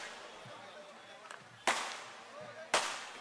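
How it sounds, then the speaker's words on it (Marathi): Firecrackers go off at a political rally: two sharp, loud bangs about a second apart, each trailing off briefly, over a murmur of voices and crowd noise. "तिकडचे फटाके थांबवा, पाणी ओतून द्या वरती, तिकडं वरचे फटाके थांबवा"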